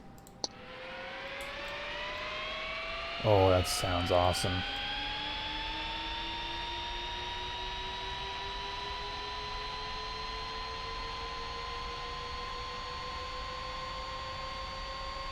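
The turbine of a Cessna Citation II jet engine in the X-Plane 11 flight simulator spools up with a steadily rising whine that holds loud and even, with a brief burst of clicks early on and a short remark spoken over it.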